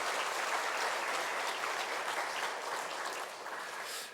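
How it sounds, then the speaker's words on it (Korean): A church congregation at a Sunday worship service breaks into sustained, even applause, a broad wash of clapping holding steady before tapering slightly at the end, with no talking over it. "박수로 함께 축복하겠습니다."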